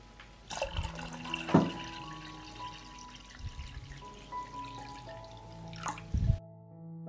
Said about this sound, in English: I pour cold water into the pot up to the level of the lid.